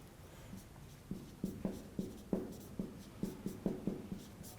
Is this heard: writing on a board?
yes